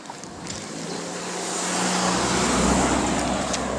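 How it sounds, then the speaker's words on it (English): A car approaches on a hot roadside, its tyre and engine rush swelling from faint to a broad, fairly loud whoosh as it nears, with no voices. "There is a car coming."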